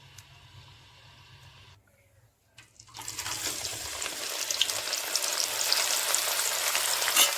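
Masala sizzles loudly in hot oil for a spicy village-style dal, beginning abruptly after a quiet pause and settling into a continuous, close crackling fry.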